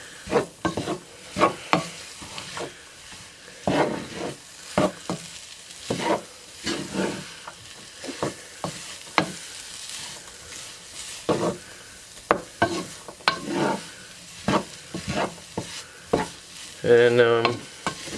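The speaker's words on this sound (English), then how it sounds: "We're going to kind of cook this for a little bit also. Get it really good and mixed into the meat." Flour is stirred into sizzling hamburger meat in a pan, with a close spoon scraping in uneven strokes over a continuous sizzle and brief clinks, no speech.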